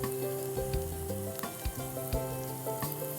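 Chopped onions fry in a pan with a steady, soft sizzle that runs throughout, alongside light stirring clinks and a background tone pattern, no talking.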